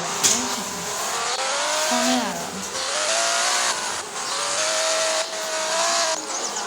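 A video game car engine drones and shifts pitch as it drives, with a brief tire squeal, under a voice talking over it.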